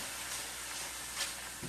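Chopped onion sautéing in a pan as the base for jambalaya, a soft steady sizzle and hiss throughout with a faint stir or knock near the end.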